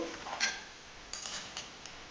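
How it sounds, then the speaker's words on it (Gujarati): A spatula scrapes and taps against a griddle while a millet flatbread is flipped, a few quiet metallic clinks and scrapes, one sharper at the start and softer ones after, with no one talking. "પછી તવીખાના મદદથી આ રીતના રોટલાને ફેરવી લઈશું"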